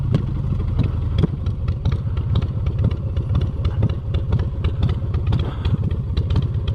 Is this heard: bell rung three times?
no